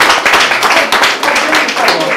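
A church congregation clapping and applauding together, a loud, dense burst of many hands close by with voices mixed in.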